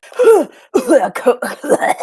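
Several harsh coughs in quick succession, close and loud, with brief pauses between bursts and a throat-clearing rasp.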